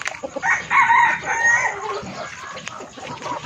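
Chickens cluck and a rooster crows nearby at feeding time, with scattered outdoor farmyard noise around them.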